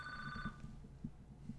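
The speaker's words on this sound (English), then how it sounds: "Gee, I thought I disconnected that phone." A telephone rings in a live gem show studio, a bright electronic trill that sounds for about half a second and then stops, heard faintly over low background hum.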